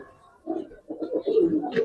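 Giribaz pigeons coo nearby in a few soft, throaty rolling bursts that grow louder and more layered toward the end.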